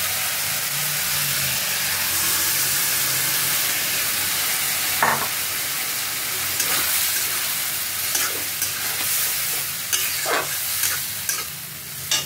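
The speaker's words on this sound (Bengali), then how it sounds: "এখন আমি এই চানাটা এর মধ্যে ঢেলে দেবো" Chickpeas are poured into frying masala and stirred along with boiled potato, a loud steady sizzle with repeated scraping spoon knocks against the pan that grow more frequent later, no voices present.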